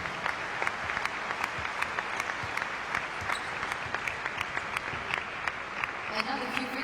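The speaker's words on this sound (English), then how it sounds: "j'aimerais que vous les applaudissiez encore très très fort une fois" A large audience claps steadily and loudly for athletes at a Special Olympics event, a dense, continuous wash of applause throughout.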